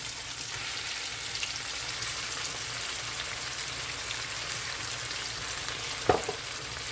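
Saltfish fries in a pan with a steady, dense sizzle like light rain. A sharp clatter comes near the end, and no one speaks.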